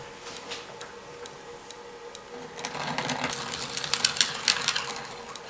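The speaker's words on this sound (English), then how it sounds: "Turn the lathe speed down just a little bit." A wood lathe turns a punky maple burl lidded container at lowered speed, with a faint whir and rhythmic ticking that grows louder and busier with scraping contact halfway through.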